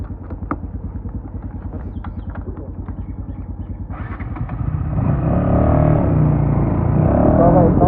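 A motorbike is ridden on a road trip between Palpa and Galyang, its engine running near and loud with a rhythmic chug that builds into a stronger, steadier roar as it speeds up.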